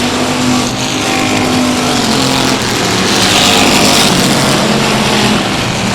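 Race cars at South Texas Speedway on the final lap, a loud continuous roar of several engines packed together, steady and close throughout with no break.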